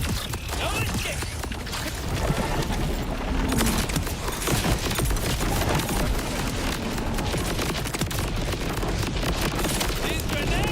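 Explosive blasts and heavy gunfire crash almost without pause through a video game combat scene in Borderlands 4, the booms from thrown grenades layered in a loud, dense mix of shooting and effects with no quiet gaps.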